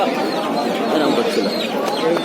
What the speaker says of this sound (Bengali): পায়রাগুলো কিন্তু লোকালের না চেন্নাই থেকে ট্রান্সপোর্ট করা